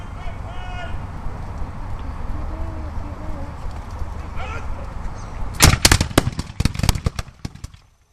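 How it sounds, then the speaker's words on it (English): Historical reenactors at Fort York fire muskets in pairs. A cluster of sharp, loud reports comes near the end, with some overlapping cracks, after a stretch of outdoor ambience and faint voices. "Sometimes they broke up and set themselves up in pairs. Reduce here their vulnerability by getting down low and load and fire together in pairs."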